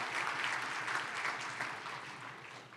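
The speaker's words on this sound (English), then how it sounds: "You can clap, that's fine." Audience applause at an economic partnership event on the Central Coast: a steady wash of many hands clapping, moderately distant and fairly quiet, fading slightly toward the end.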